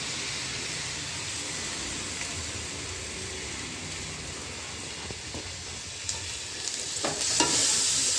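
Beaten tomatoes (two of them) poured into a hot frying pan while making egg pasta, giving a steady close sizzle with stirring scrapes throughout, the frying growing louder and more crackly near the end.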